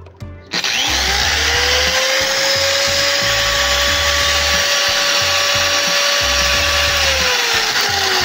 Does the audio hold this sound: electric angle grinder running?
yes